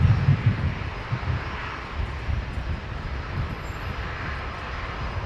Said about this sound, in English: The next aircraft here is Jetstar 148 from Auckland, the A321neo in the new Jetstar livery.